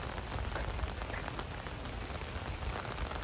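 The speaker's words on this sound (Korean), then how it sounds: "그리고 비가 와서 더 운치 있는 것같아" Rain falls steadily on a tree-lined historic street in Seoul, a dense, even hiss of drops on surfaces, close and continuous, with faint low rumbles underneath and no talking.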